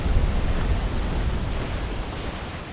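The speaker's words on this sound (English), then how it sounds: "Water spout!" A water spout at sea in Assassin's Creed IV Black Flag, heard as a dense, constant roar of wind and churning water, loud and even throughout with no voices.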